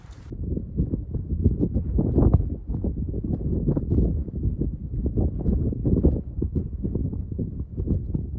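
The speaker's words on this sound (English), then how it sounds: "It's like cold and windy out here, man." Cold wind gusts outdoors in the Sawtooth Mountains, buffeting the microphone with a steady low rumble that swells and dips throughout.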